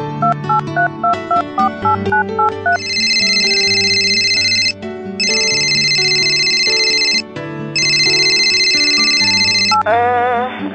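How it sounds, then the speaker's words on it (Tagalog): A phone rings with an incoming call in a radio drama: a loud electronic melodic ringtone plays over a repeating backing loop in three long sustained bursts before cutting off. "Tawagan ako ni Shabi"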